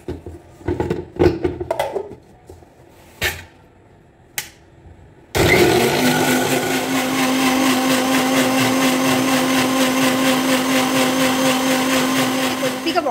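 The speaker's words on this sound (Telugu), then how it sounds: "ఇప్పుడు ఇంకా మిక్సీ అయితే చేసేద్దామండి" A kitchen mixer grinder blends spinach into a paste for palak chapati, starting abruptly with a loud, steady whirring roar that runs continuously to the end, after a few seconds of speech and small kitchen clatter.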